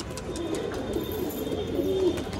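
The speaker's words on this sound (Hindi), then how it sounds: "ये बाकी कबूतर सब अपनी मस्ती में सुबह के टाइम पे" Domestic pigeons, including red Sirazi pigeons, cooing softly in the morning, a low continuous murmur of several birds close by with no talking.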